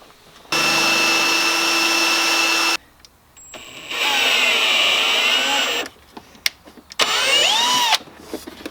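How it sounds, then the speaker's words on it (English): A power drill whines in several bursts, starting and stopping, its pitch shifting as it bites into metal on a Grand Marquis during a manual swap, close and loud with quiet gaps between. "Normally I wouldn't try to do this with the drill"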